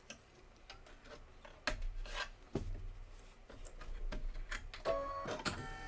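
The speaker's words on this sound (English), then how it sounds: "we're going to stitch the grass fill" An embroidery machine stitches a grass fill, giving a quiet, steady mechanical rattle with repeated ticks and clicks at close range and no voices.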